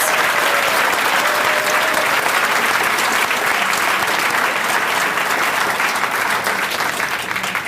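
Dense, sustained applause from a large crowd at a school district recognition banquet, a thick wash of clapping that stays loud and even throughout.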